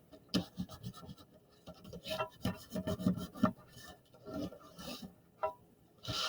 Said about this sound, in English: you can put it underneath and you can do a crayon rubbing or an oil pastel rubbing